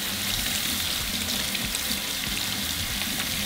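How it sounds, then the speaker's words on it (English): Pineapples are washed under running water, a steady hissing splash from a tap that carries evenly throughout with no voices. "first we're going to start by washing our pineapples"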